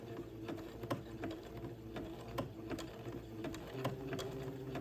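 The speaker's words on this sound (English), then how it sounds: "And then I will begin to zigzag this lace together." A sewing machine zigzag-stitches lace together along the brim of a baby bonnet, running as a faint, steady mechanical whir with regular rapid needle ticks throughout.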